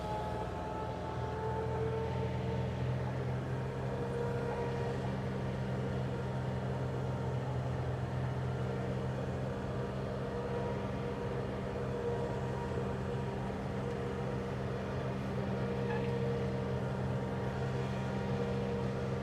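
Steady engine drone from a tractor of about 30 PTO horsepower driving a 10-foot flex-wing rotary mower through heavy growth, a loud continuous hum with deep low tones, running alone without a break.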